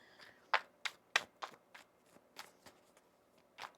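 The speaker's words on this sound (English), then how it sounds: "One more shuffle." A deck of tarot cards is shuffled in a series of crisp, close riffling snaps and flicks, irregularly spaced and fairly quiet, with no talking.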